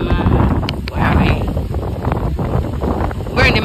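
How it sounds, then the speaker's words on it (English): Strong wind at a beach in the Dominican Republic buffets the microphone in a steady, loud roar with gusty rumbling throughout, close and harsh, with no clear voices over it. "I hope y'all can hear me because it's windy."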